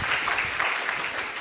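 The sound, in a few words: audience clapping for God in a church service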